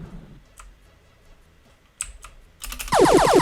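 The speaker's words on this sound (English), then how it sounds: "I'm super fast at hitting this keyboard" Rapid, loud clatter of computer keyboard keys being hit while playing an asteroids game, a dense burst of clicks near the end after a few sparse taps.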